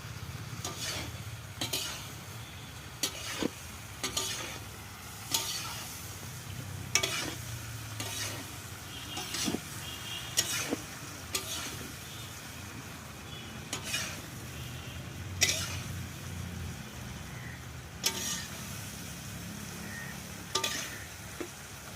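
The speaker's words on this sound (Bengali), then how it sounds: "কুমড়ো শুটি কড়াই কাঁচা লঙ্কা যেগুলো যে দেবো, ফুলকপি, শিম, কুমড়ো, গাজর সবই আমি দিয়ে দিই, তেলেতে কষিয়ে নিয়েছি" Mixed vegetables, pumpkin, peas, green chilies, cauliflower, beans and carrots, are stirred and fried in oil for khichuri, a steady sizzle punctuated by repeated scraping clanks of a spoon against the pan.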